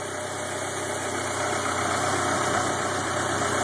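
With a new muffler fitted, the 1986 Volkswagen Cabriolet engine idles close by, a smooth, unbroken mechanical drone with faint vibration that swells slightly toward the end.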